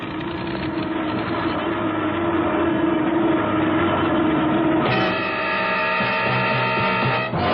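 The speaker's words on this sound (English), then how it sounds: "Oh, it's just the starboard engine." A failing starboard engine on an airplane in an old-time radio drama sets up a steady, loud droning roar that shifts abruptly in pitch and texture partway through, then carries on unbroken with no voices.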